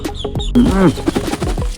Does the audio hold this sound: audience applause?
no